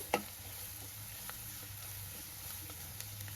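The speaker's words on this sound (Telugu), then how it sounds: "వీటినన్నింటిని కూడా కొద్దిసేపు వేయించుకుందాం ఆనియన్స్ బ్రౌన్ కలర్ వచ్చేదాకా" Onions fry with ginger garlic paste in a pan for fish curry, a soft, even sizzle with a single sharp tick at the start and faint scattered crackles, no voices.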